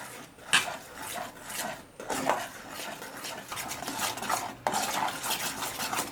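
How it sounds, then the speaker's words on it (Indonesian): Spoon stirring a milk batter with dissolved cornstarch in a metal pot, scraping and clinking in a steady rhythm at close range with no talk. "kita masukkan perlahan-lahan ke dalam adonan susu ini sambil terus diaduk biar tidak menggumpal"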